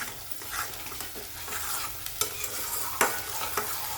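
A spice paste for mixed vegetable curry is stir-fried in oil, a soft continuous sizzle with repeated stirring scrapes and occasional sharper clicks of the spoon against the pan.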